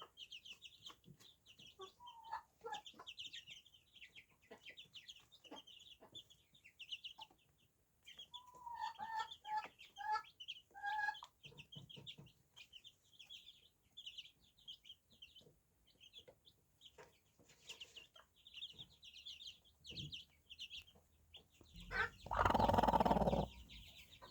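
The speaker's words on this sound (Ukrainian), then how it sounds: "Тут два півники і дві курочки." Hens and young chicks cluck and chirp softly throughout, with a rooster's crow breaking in loudly near the end.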